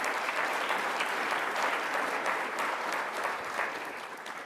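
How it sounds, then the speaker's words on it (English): Steady round of applause from a large conference audience at the Mackinac Policy Conference, dense continuous clapping that holds level and begins to taper near the end. "He deserves a round of applause on that one."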